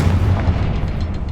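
A Confringo fire spell in Hogwarts Legacy explodes as a single loud, booming blast with a rumbling low-end tail that fills the whole brief moment.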